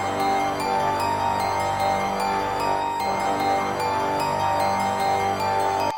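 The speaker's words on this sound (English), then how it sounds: "all together, both the melodies as well as the brass sound like this" Bell-like melody and a Nexus Hollywood Brass line sound together, a dense, sustained synth arrangement with steady bright bell accents on top and no voices.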